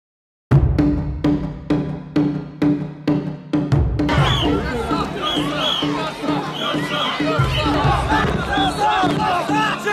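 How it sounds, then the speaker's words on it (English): A loud, energetic crowd at the Bonden Parade in Yokote, Japan. Sharp rhythmic claps or beats open it, then a dense roar of chanting and shouting voices carries on continuously. "Yokote's Bonden Parade is loud and energetic."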